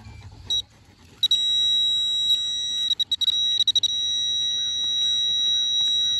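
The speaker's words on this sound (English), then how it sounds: "Getting a metal detector out" Metal detector sweeping a field for buried relics gives a steady, fairly loud high electronic tone that keeps sounding, with brief breaks and stutters early on and a few quick dropouts midway; no talk.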